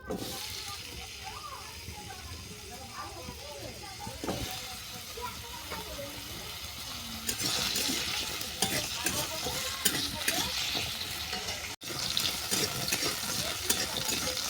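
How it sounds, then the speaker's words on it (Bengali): Potatoes fry in hot mustard oil with steady sizzling and occasional stirring scrapes, louder in the second half and close to the pan, alongside a few soft voices and faint kitchen clatter. "তেল গরম হয়ে যাওয়ার পর আলুটাকে তুলে দিচ্ছি"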